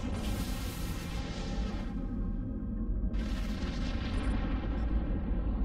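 Ship weapons firing in the space game Eve Online, heard as heavy booming bursts over a deep rumbling engine drone, loud and continuous with no talking.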